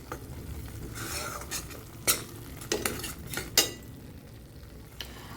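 Spice masala for a rohu fish curry frying in oil in a pan, with quiet steady sizzle and several sharp spoon-on-pan scrapes and clinks as it is stirred up close.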